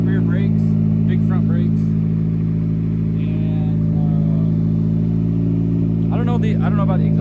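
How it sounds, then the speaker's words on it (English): A modified car with an R32 two-way LSD and big brakes idles and revs through an aftermarket muffler, a steady low engine drone running throughout under nearby conversation. "It's got some interesting muffler. Sounds pretty cool though."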